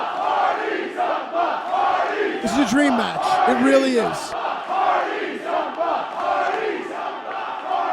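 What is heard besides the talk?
wrestling arena crowd cheering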